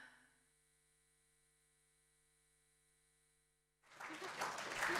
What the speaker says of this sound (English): Oh, an unexpected applause